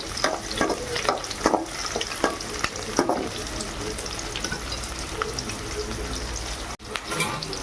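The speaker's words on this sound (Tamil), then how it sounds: "போட்டு நல்லா வதக்கணுங்க. பாருங்கள், நல்லா வதங்கணும் எண்ணெயில்." Garlic, green chillies and shallots sauté in hot oil with a steady sizzle, with stirring clatters in the first few seconds, heard up close with no talking.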